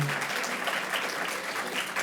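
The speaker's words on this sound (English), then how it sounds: "I hear you clapping for Claudia, don't I?" Audience clapping at a youth summit, a dense steady round of applause from a crowd in a hall, with a brief voice at the very start.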